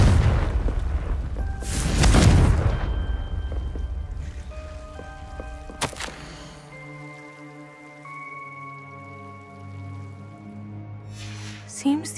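A Confringo fire-blast spell in the Hogwarts Legacy video game erupts as a loud booming burst with crackling spray, then decays under sustained tonal game music.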